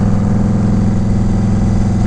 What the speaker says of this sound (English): I like that deceleration sound on the bike.